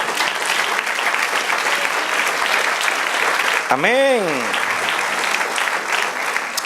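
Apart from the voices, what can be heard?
congregation applause in church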